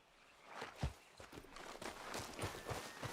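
Horse hooves clip-clop in Red Dead Redemption 2, a steady walking rhythm of soft, close thuds that grows slightly busier toward the end, with no talk over it.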